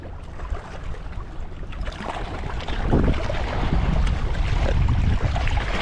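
Strong wind buffets the microphone on a lakeshore during bank fishing for crappie on a cold day, a steady loud broadband roar with gusts that intensify midway, no voices.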